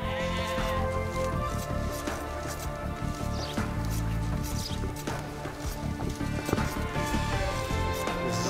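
Sheep bleat repeatedly in the strategy game Age of Empires II Definitive Edition, heard over a steady bed of game music and ambient effects, with no talking.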